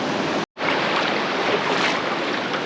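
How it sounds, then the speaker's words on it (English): Fast, rain-swollen river rushing into the ocean at Whale's Tail Beach in Uvita, Costa Rica, a steady broadband roar of moving water and surf with wind buffeting the microphone, cut by a brief dropout early on. "Here's the river flowing into the ocean and it's going pretty fast because of the rains"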